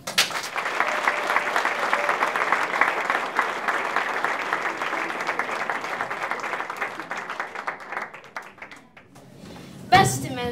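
An audience at a school's farewell musical gives loud, sustained applause that fades out toward the end, with a voice speaking briefly over a loudspeaker afterward.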